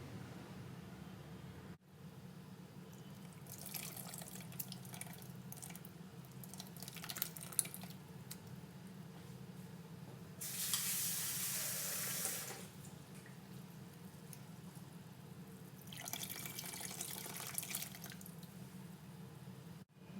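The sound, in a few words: water being added to tamarind fish curry mixture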